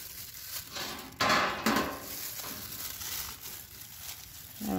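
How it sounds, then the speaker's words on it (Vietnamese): Homemade green onion kimchi being tossed and mixed in a bowl, giving soft wet rustling and a couple of louder clattering knocks against the bowl, no talk. "Giờ vẫn trộn ha, trộn làm kim chi phiên bản nhà làm ha"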